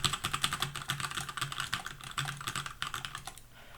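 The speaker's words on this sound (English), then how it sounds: "let me just type whatever in here" Someone types on a computer keyboard, a fast, steady patter of close, quiet keystrokes with brief pauses.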